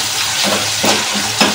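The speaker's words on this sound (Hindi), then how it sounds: "अब हम इसमें साथ ही हम डाल देंगे अदरक लहसुन का पेस्ट एक चम्मच, इसको हम थोड़ा सा सोते कर लेंगे।" Ginger garlic paste sautéing in a pan while mixed vegetables are cooked desi style, giving a steady close sizzle with a few louder stirring scrapes, no voices.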